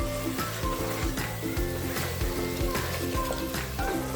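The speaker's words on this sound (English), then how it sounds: "Now add 3 tablespoons of curd or yogurt. Mix it and cook it on low flame." Mutton curry with curd or yogurt stirred in simmers on a low flame, giving a soft, continuous sizzle with repeated scraping stirs against the pot and no talk.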